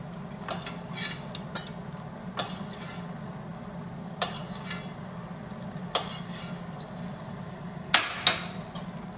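White wine and garlic being mixed in a bowl for a carbonara, with several sharp clinks of utensil against the bowl spaced a second or two apart over a low, steady kitchen hum.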